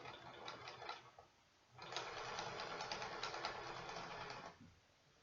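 A sewing machine hems the bottom of heavy drapes, with a brief run, a short pause, then a longer steady whirring stretch that winds down, close and moderately loud.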